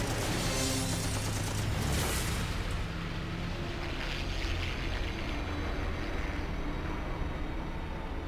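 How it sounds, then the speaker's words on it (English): A WW2 Hellcat fighter fires its machine guns at night in a dogfight, a dense loud burst of rapid gunfire over roaring engine noise for about two seconds, then the engine drone continues alone. "Dungan carefully puts the pipper on the roof's silhouette and fires"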